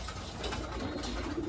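Racing pigeons cooing in a loft, a soft, low, murmuring coo heard faintly over a noisy background for a brief moment.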